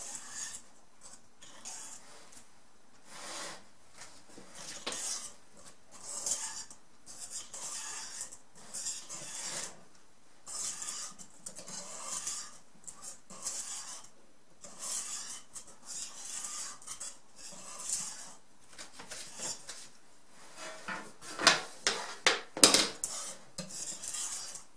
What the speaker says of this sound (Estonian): Rahulikult segan ta ühtlaseks ja panen küpsetusvormi